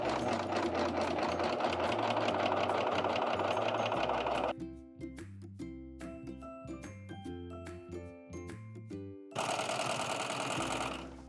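A Husqvarna Viking Amber Air S|600 serger runs a 2-thread rolled hem, loud and close: a fast steady mechanical whir, then a quieter stretch of rhythmic tonal clatter, then another loud run, with no voices.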